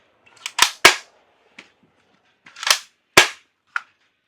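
Toy shotgun firing soft bullets at a target: a handful of sharp, loud pops in an uneven rhythm, some close pairs and some single shots, separated by short silences, with no speech.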